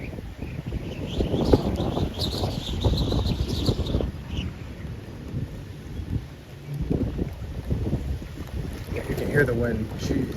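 Strong gusting wind roars across an open area under a shelf cloud ahead of a severe thunderstorm, a steady low rumble of buffeting with people talking over it throughout.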